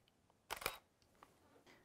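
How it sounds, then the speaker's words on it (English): A single-lens reflex camera shutter firing at a slow 1/20th second speed, a quick double mechanical clack heard close and alone, followed by faint small clicks in a quiet room. "Let's try an even slower shutter speed. Let's go down to 1/20th of a second."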